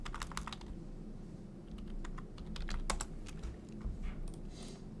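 Someone types a folder name on a computer keyboard: a quick run of light, irregular key clicks, close and fairly quiet, with no voices.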